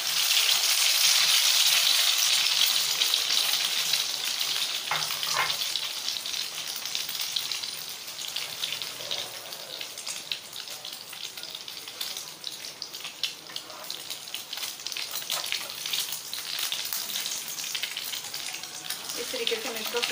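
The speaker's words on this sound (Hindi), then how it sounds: "इस तरीके से हम इसको फ्राई करते जाएंगे।" Bread slices fry in a pan with a steady, broad sizzling hiss that runs continuously at close range, with a few faint clinks and no talking.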